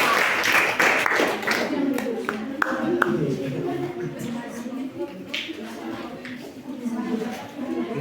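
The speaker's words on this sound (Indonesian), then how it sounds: "kita kasih tepuk tangan untuk kelompok" A room of students gives scattered applause for a presenting group, with people talking over the clapping.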